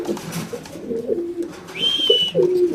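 Racer pigeons at a pigeon farm cooing in low, throaty bursts, with a brief higher whistle partway through and a steady background hum.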